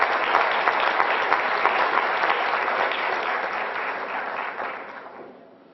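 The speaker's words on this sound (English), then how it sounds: "So let's give them a nice round of applause." An audience applauds third graders from Knox Elementary at a school event: strong, steady clapping from many hands that carries on for several seconds before fading out at the end.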